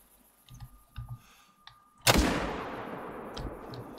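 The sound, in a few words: 30-06 hunting rifle shot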